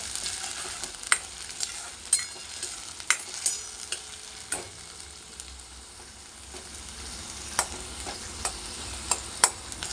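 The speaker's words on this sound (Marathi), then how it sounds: "आपला कांदा छान असं परतला गेलेला आहे, बराचसा असं परतला गेलेला आहे." Onion sizzles in a pan with ginger garlic paste while cooking a taro root curry, a steady soft frying hiss broken by frequent sharp scraping stir clicks, close and moderately quiet, with no voices.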